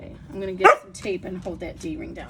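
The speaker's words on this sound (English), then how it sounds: "I'm so sorry about the dog barking" A dog barks a few times in the background while someone talks steadily over it at a sewing table.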